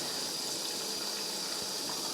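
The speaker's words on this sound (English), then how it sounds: "I'm just going to fill this up with water again and just let it sit in the water" Water runs steadily into a container to soak Welsh Top wool, a continuous close hiss and gush with no pauses.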